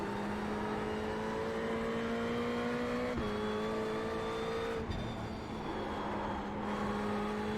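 A black Ferrari GT3 race car engine drones at steady high revs in the iRacing sim at Lime Rock, holding a strong constant note with a brief dip and shift around the middle, loud and continuous with no talk.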